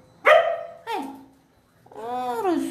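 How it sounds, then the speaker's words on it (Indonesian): A dog barks several times up close in the morning sun: two sharp yelping barks, then a drawn-out whining howl, loud and alone with no talk. "Jangan gonggong ya."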